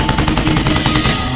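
Animated guns shoot at toilets in a quick, loud run of gunfire, each shot following closely on the last in a short burst.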